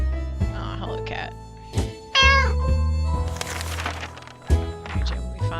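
A cat in the 60 Seconds video game meows several times, loud and close, with a low background drone and game sounds between the calls.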